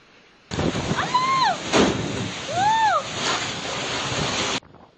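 Strong tornado wind and driving rain from Typhoon Inday and the southwest monsoon in Aklan make a loud, steady roar that fills the mic, with a couple of wavering shouts rising over it before it cuts off.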